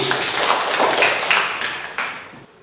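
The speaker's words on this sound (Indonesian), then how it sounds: "Tepuk tangan buat Emi dan Ardi." Classroom applause for students during a science lesson: a steady, dense patter of many hands clapping at close range for about two seconds, then tapering off, with no talking.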